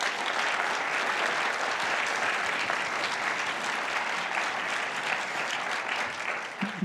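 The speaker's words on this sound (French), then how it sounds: "je vous prie d'accueillir sous un tonnerre d'applaudissements" A packed cinema audience at a Swiss film screening applauds steadily to welcome a guest speaker, a dense, sustained wash of clapping that holds at an even level throughout.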